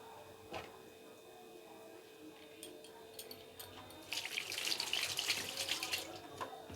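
Rice being rinsed under running tap water in a kitchen sink for sesame fritters, a steady splashing flow that swells louder and fuller toward the end, with no talking.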